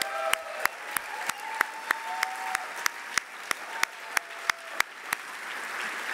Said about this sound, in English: and Danny, I give you a round of applause, and we so admire you.